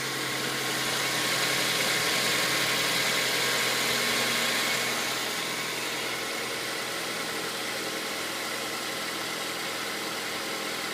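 A 2007 Mazda 3 hatchback with a 2.3-liter engine and about 148,000 miles runs at a steady idle, its constant, close mechanical hum and vibration holding even throughout with no talk.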